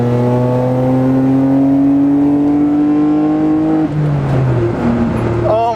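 A close, loud R32 Skyline GT-R engine drones at steady revs with rising tone, then drops through a downshift and revs back up, bursting and burbling.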